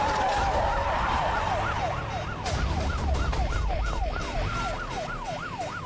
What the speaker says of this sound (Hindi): एम्बुलेंस है यार, बाहर आ जाओ.